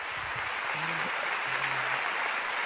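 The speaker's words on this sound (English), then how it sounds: "Come on, give God a big hand." Congregation applause at a church sermon, a dense, steady wash of clapping that fills the whole clip at an even level, with a faint low hum beneath it.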